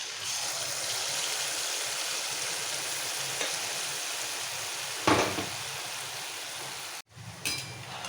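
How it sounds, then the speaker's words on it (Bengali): Malpoa pancakes of wheat flour and semolina fry in hot oil with a constant hissing sizzle, broken by a few louder spatters and a brief clatter near the end. "এইভাবে সবকটা মালপোয়া ভেজে তারপর আমি দেখাচ্ছি"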